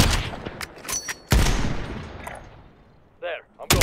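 Gunfire in Call of Duty Warzone: several sharp, loud shots ring out close by, some in quick pairs, each with a decaying echo, while a player's voice is briefly heard between them.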